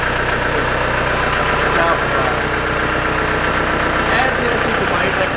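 A Solis Yanmar tractor engine idles in a smooth, steady, close-up rumble with a person talking over it.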